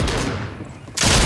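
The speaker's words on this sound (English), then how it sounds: "I'm shooting him." Gunfire in the Fortnite video game, a dense loud burst of shots at the start, a dip, then a second loud volley near the end, with no talk.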